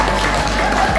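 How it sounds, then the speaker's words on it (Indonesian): A class of Indonesian-language students gives a loud, dense round of applause, continuous and close, with no gaps for its whole length. "kita beri semangat dengan tepuk tangan bersama-sama"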